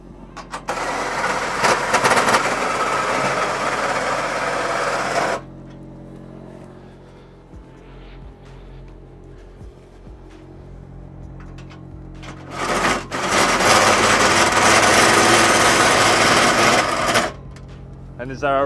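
A cordless drill runs in two long sustained bursts of steady whirring during an off-road camper trailer setup, with a quieter gap between them where people talk.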